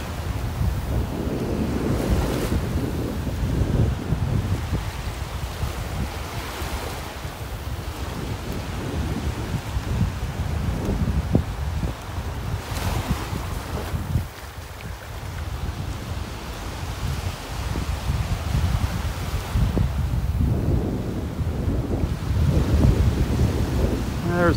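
Strong wind buffets the microphone on a Gulf Coast beach in North Naples, Florida, a constant low roar mixed with surf washing in, loud and steady with gusty swells.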